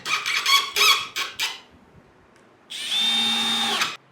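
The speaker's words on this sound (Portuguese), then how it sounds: "utilizando o parafuso A, vou fazer a fixação das peças número 6 e número 7 aqui no nosso tampo do armário" A power drill drives screws to join numbered panels of a flat-pack wardrobe top, heard as a few short, uneven whirring bursts, then a pause and one longer steady whine, all close and loud with no talk.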